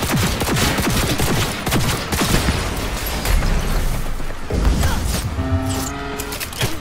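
Dense, loud gunfire during a fight with police in Cyberpunk 2077, with overlapping bursts and shots throughout and a heavier impact midway, with no talking.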